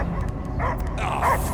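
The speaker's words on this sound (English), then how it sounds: "I hear only barking" A dog barks and yips in the Guardians of the Galaxy video game, several short barks and whimpers over a dense, loud game soundscape with voices.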